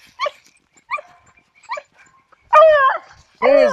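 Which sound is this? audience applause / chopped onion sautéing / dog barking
dog barking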